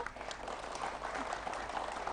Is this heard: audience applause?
yes